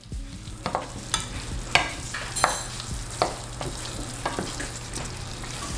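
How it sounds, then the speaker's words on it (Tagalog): Chicken breast stirred in a creamy butter sauce in a pan, a steady close sizzle broken by irregular scraping and knocking strokes of a spoon, moderately loud, no voices. "Tapos haluin nyo lang maigi,"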